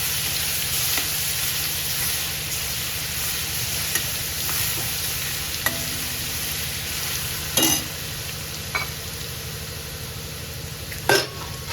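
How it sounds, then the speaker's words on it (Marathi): Crushed garlic goes into hot oil in a frying pan for a Marathi dal mirchi dish, giving a steady close sizzle with a few sharp utensil clinks against the pan. "आणि लसूण घालायचा हे ठेचलेला लसूण आहे बघा एकदम बारीक नाही करायचा क्रश ठेवायचा जरासा लसूण पण भरपूर घालायचं आपल्याला"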